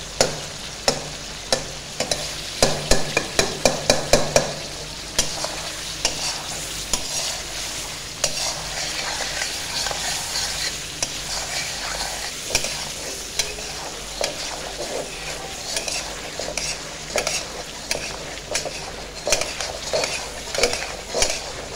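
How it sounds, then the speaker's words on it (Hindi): A spoon scrapes and clanks against a pot of Peshawari charsi mutton karahi as tomatoes are mashed into the meat, with quick rattling strokes early on and a steady sizzle of frying underneath throughout. "अब इसके अंदर 1 दफ़ा चम्मच चला लेते हैं और टमाटर को अच्छे से मैश कर लेते हैं।"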